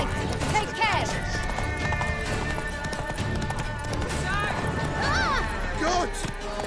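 Galloping horse hooves from The Witcher 3 pound quickly and steadily under a busy game scene, with voices talking over the ride and a whinny rising now and then.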